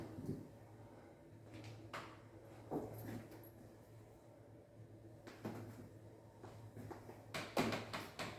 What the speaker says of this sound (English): Creaky door in an old building.